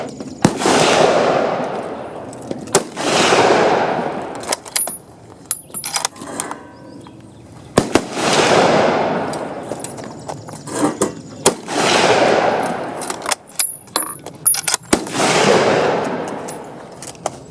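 Several loud, sharp firearm reports fired in separate bursts, each followed by a long decaying echo, with quieter clicks and metallic handling between shots as the gun is reloaded.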